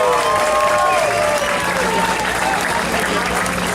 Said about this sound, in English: Let's give them all a round of applause, folks.